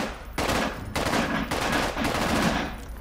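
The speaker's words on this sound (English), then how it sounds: "The fastest way to remove a barricade is using D with the nail gun." A nail gun in the video game Contagion pulls nails out of a barricade with rapid repeated mechanical bursts, loud and close, in three or four dense runs separated by brief gaps, with no talk.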